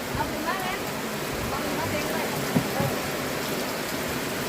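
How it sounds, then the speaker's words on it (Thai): Steady rain pouring down outdoors, a dense, even hiss that holds at the same level throughout, with a faint voice briefly audible partway through. "ประมาณ3โมงพี่น้องฝนตกเลย"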